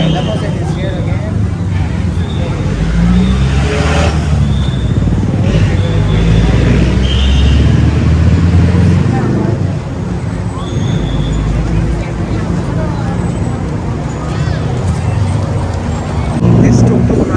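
A tuk tuk rolls through busy Bangkok night traffic on the way to Chatuchak market, with a steady loud engine and road rumble, passing cars and motorbikes, and a hubbub of voices throughout.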